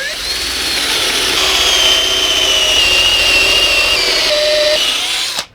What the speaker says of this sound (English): So I'm starting off by drilling 2 holes.